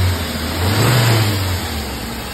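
A Hyundai car engine runs up close after a service, a steady low hum with noticeable vibration that swells briefly as it revs, then settles back.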